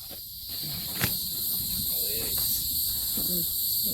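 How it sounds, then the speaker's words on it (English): Insects at an off-grid outdoor site, a steady high, shrill buzzing and chirring drone that runs through the whole stretch, with faint low rustling and a brief click underneath and no talk. "The bugs are all, oh my goodness. It's so buggy."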